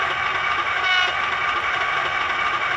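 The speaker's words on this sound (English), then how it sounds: "F12 is air horn short 2." A second short air-horn sound from a Hornby class 31 DCC sound model diesel locomotive sounds a brief tonal blast for about a second, then settles into the continuous idling engine hum, heard close with no talk.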